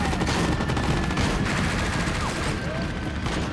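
Dense, continuous gunfire in a Chinese anti-Japanese war film, with sustained volleys rolling under a battle mix and no single shot standing apart.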